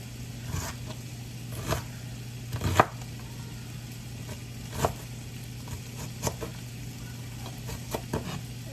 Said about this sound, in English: And then I run my knife in through the middle.